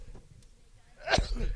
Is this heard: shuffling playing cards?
no